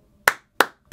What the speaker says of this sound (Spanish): Aplauso, me encantó.